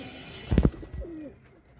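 Domestic pigeons, local desi birds near their coop, give a short, close cooing call, a quick throaty burst followed by a softer low coo, over quiet background.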